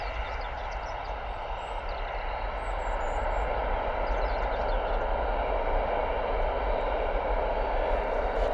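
Ryanair airliner at Bristol Airport, a loud, steady jet engine roar that builds slightly and holds throughout, broadband and continuous with no talk.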